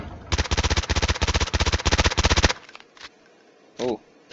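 SMG fire in Call of Duty Mobile on a training range at 40 meters, a rapid, loud, close burst of about two seconds of evenly spaced shots, followed by a couple of quieter clicks and a short synthetic chirp.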